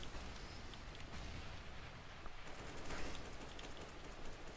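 Rapid gunfire from a Counter-Strike match on the Mirage map, a dense, steady burst of shots and clatter filling the whole stretch at a distance, with no voices.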